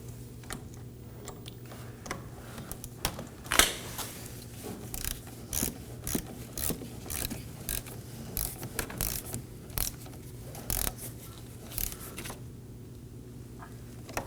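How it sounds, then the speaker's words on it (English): Small hand ratchet snugging down a 10mm nut on the negative battery terminal of a 2020-2027 Toyota Corolla, a quiet, irregular series of close clicks and metallic ticks with no talk. "We're going to resecure our negative battery terminal, slide it over the post, and snug down the 10mm nut."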